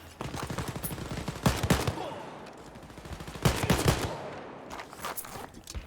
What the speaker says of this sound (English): I enter the building, and I just start shooting Nazis.